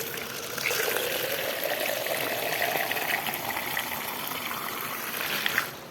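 Filtered water pouring steadily from a simple homemade sand water filter, a continuous close gush of running liquid lasting several seconds with no talking.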